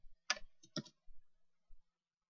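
A few sharp mouse clicks sound while working in web design software, one quick double click followed by two isolated single clicks, close up and crisp against near silence.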